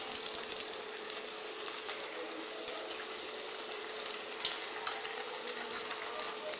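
Urad dal vadas (garelu) frying in hot oil, a steady bubbling sizzle throughout with a few light clicks and taps of a utensil, moderately close and without talk.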